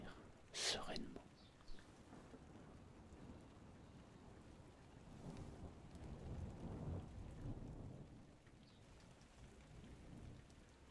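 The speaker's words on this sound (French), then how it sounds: "le son et le bruit de la pluie" Rain falling steadily during a thunderstorm, soft and distant, with a sharp crack of thunder near the start and later a low rumbling swell, while a voice whispers quietly over it.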